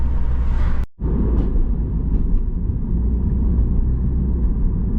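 Car driving on a road, a steady low rumble of engine and tyres with a brief drop near the start, continuous and fairly loud.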